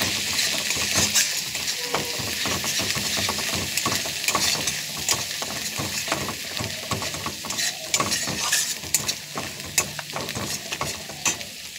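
Spices with a little chili powder frying in a pan, a steady crackling sizzle broken by repeated scraping stirs throughout, close and fairly loud with no talking.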